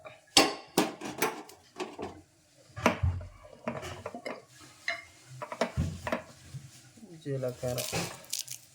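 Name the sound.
stirring chillies and cumin in a cooking pan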